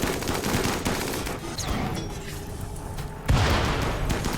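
Gunfire during a RimWorld colony fight, a rapid crackling volley of shots with a few clinking impacts, then a louder burst near the end.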